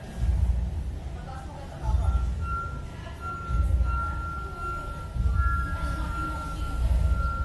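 An empty glass goblet struck for a demonstration, giving a sustained pure ringing tone that holds through the clip, with repeated low thumps and background noise underneath.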